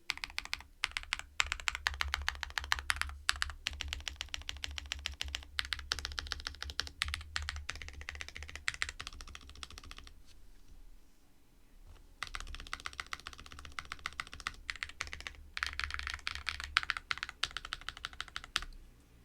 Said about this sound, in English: I'm gonna do one more typing test because that was dreadful